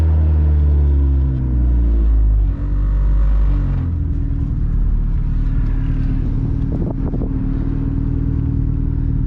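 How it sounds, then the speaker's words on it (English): A turbocharged Mazdaspeed3 making over 600 horsepower accelerates hard, rumbling and rising in pitch before a brief shift, then pulls steadily on with a loud, throaty drone. "Great sounding car, man."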